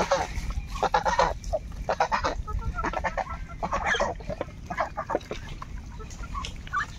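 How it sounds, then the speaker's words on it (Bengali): A flock of geese honks and clucks noisily while returning from a river, with dense overlapping calls close by and continuing throughout, some chicken-like clucking mixed in. "রাজহাঁসগুলো নদী থেকে চলে আসছে"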